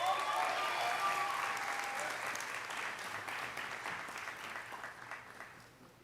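Applause fills the room at a high school senior awards night after an award is presented. The dense clapping starts strong and tapers off over about six seconds, with faint voices mixed in.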